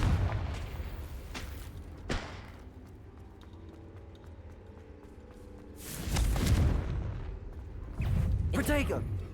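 Confringo blasting spells burst in Hogwarts Legacy, with a loud whooshing explosion near the start and heavier booming blasts later, separated by quieter ambient game sound.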